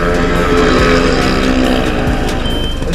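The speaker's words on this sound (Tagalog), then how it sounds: "Maingay lang yung makina niya. May kalansing na." A stock-piped 1996 Kawasaki HD3 motorcycle engine runs loud and close, its steady idle with a rattling clatter droning on continuously for the whole stretch.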